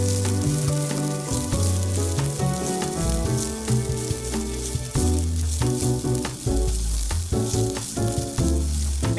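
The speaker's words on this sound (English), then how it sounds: "Saute for a minute." Diced onion sautéing in a little olive oil over medium heat, a continuous close sizzle and crackle, loud and steady throughout.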